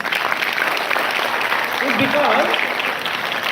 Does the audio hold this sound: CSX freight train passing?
no